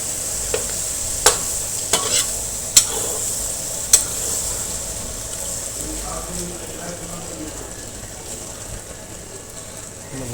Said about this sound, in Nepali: प्याजसँग एकछिन भुटौँ